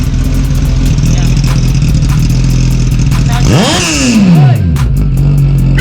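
A Suzuki GSX-S1000 or KTM Duke 390 motorcycle rumbles loud and close, then revs hard with a sharp rising and falling sweep, while someone shouts briefly over it.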